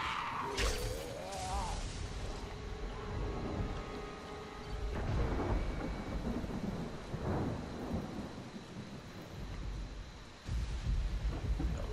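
Rain pours steadily while thunder rumbles and cracks, loud and close, with a few synthetic tones mixed in near the start, in the video game Dying Light.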